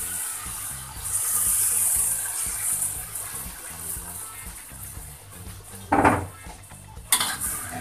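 Water splashes and gushes from a pot into a blender holding fried spice paste, a steady pour lasting a couple of seconds, then clinks of metal and dishes as the flow stops.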